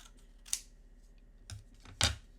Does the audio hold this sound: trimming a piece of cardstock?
yes